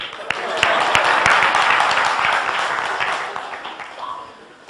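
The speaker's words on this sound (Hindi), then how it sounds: "आप लोगों के लिए तालियां बजाइए" Listeners at a Wednesday Gita class clap together, a busy patter of many hands with a few sharper claps standing out, fading away toward the end.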